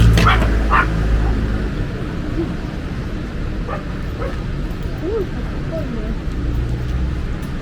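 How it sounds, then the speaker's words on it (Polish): A large dog barks and yips a few times outdoors, moderately close, over steady street and traffic ambience while people talk nearby. "Piesek duży."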